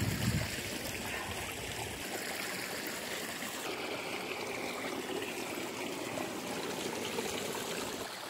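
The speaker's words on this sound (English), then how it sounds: "I'm back here at the river." River water flows steadily over rocks, a continuous close rushing and trickling wash with no talk over it, with a brief lower splash at the very start.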